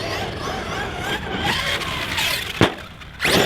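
An HPI Savage X Flux 4S RC car drives hard, its electric motor whining and rising with throttle against gravel and wind noise, with a sharp bump and a fresh burst of acceleration near the end.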